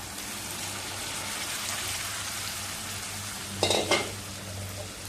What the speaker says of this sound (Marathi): सगळं हलवून घेऊया